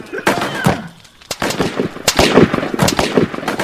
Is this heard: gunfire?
yes